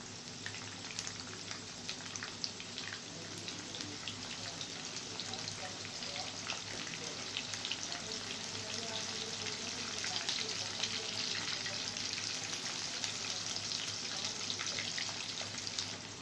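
Sliced medium-sized onion frying in hot oil for a chana mash daal, a steady close crackling sizzle with fine popping that runs evenly throughout.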